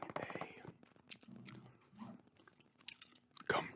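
Gum is chewed close to the ear in soft, irregular wet smacks and clicks, quiet and intimate, with a sharper snap near the end.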